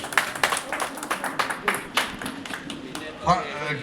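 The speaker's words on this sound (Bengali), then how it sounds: "অরুণাভ মুখার্জি, হাততালি হাততালি" Scattered clapping for a quiz prize winner, uneven sharp claps from a small group over a few seconds, with a voice speaking near the end.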